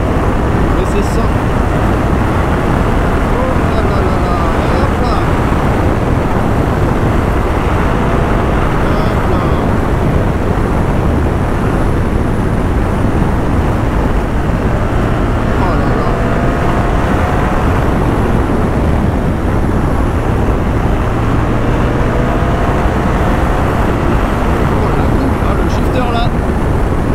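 A BMW GS 1300 motorcycle engine drones loud and steady while riding, mixed with heavy wind rush for the whole stretch, with a rider talking over it.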